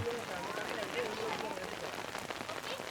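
Steady rain patters on a surface at night in Khorfakkan, UAE, a dense even hiss, while faint voices murmur underneath.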